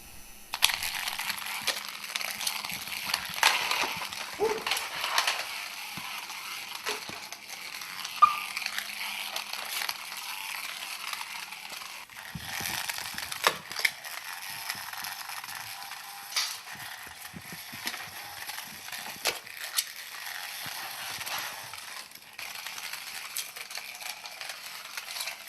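The small motors of a BeetleBot robot whir continuously at low volume, with scattered clicks and rattles as they run and reverse, heard close by with no talking.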